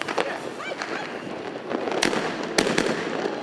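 Large firecrackers explode outdoors during New Year celebrations abroad, several loud sharp bangs and crackles scattered over a noisy background, with the sharpest blasts toward the end.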